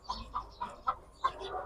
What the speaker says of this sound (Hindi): तो ये तकरीबन 1100 मुर्गियाँ हैं